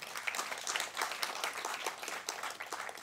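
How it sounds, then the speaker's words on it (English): Steady applause from a crowd, dense clapping throughout at an even loudness, with no talking over it. "Can you please just give a round of applause for Shamiso?"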